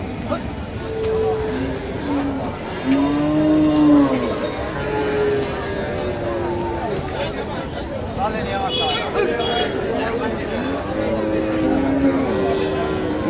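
Dairy cows at a large open-air cattle market low and moo repeatedly, several drawn-out calls overlapping against a steady crowd babble, with someone talking over them.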